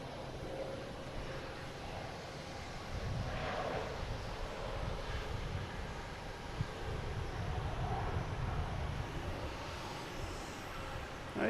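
United Airlines A321neo jet from Denver on approach into Boston Logan, a steady broadband roar with wind buffeting the microphone, holding at a fairly even level throughout with slight swells.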